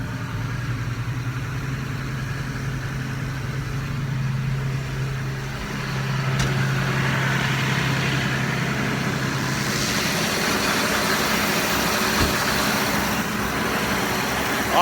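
A tractor engine running at PTO speed to drive a round baler, a steady close diesel drone and rumble that grows slightly louder and rougher partway through and holds there, with no talking.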